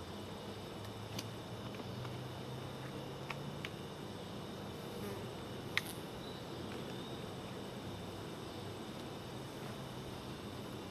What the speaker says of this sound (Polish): Pszczoły pracują intensywnie.